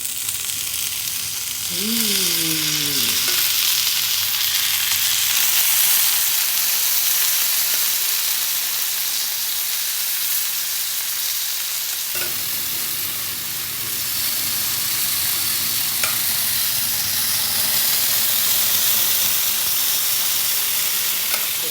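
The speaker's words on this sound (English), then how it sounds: "That's the sound of 2 sizzling hot pans." Two hot Chinese sizzler pans fry with loud, continuous sizzling and hissing, a bright crackling wash that persists throughout with faint clinks and a short voice early on.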